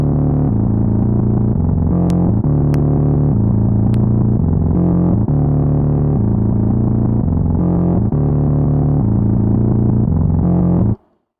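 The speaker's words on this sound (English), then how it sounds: "So that one is even more aggressive, and you can hear even more of that harmonic distortion." Music played through a Native Instruments Supercharger GT compressor preset with aggressive harmonic distortion, a loud, dense, saturated sustained passage with chord changes, running continuously before cutting off abruptly at the end.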